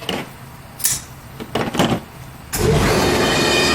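An air compressor in a forge kicks on after a few short clunks and knocks, then runs as a loud steady drone to the end.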